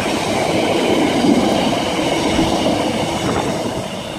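A Class 66 freight locomotive hauling a Freightliner train rumbles past on a main line, loud and close, with steady wheel clatter and rolling noise throughout and no voices.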